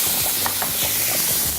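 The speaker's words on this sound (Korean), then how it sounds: "이게 육수 끓는 소리랑 고기 볶는 소리랑" Ground meat stir-frying in a pan, broken up with chopsticks, beside a pot of simmering broth for mullet fish-skin dumplings: a steady close sizzle and hiss with faint scraping stirs, no talking.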